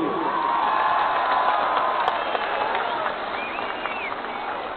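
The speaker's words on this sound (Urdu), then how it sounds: "ہاتھ کھڑا کر کے تالیاں بجاؤ ان کے جذبے کے" A protest crowd clapping in support, a dense sustained patter of many hands that carries on for several seconds with a few scattered voices mixed in.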